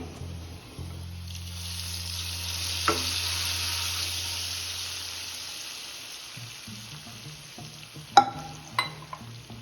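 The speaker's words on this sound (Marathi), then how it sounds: "आता आपल्याला परतून घेतलेले फ्रुट्स या खिरीमध्ये ऍड करून घ्यायचे आहे" Fried dry fruits stirred into a pot of thick rice kheer, a gentle bubbling hiss followed by a few close spoon scrapes and clinks against the pot.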